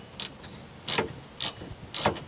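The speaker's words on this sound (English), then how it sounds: "we're going to take off the rear of the bar with this T40 Torx bit" A ratchet turning a T40 Torx bit loosens the roll bar bolts on a 1997 Jeep Wrangler: four short, close bursts of clicking pawl clatter with brief pauses between strokes.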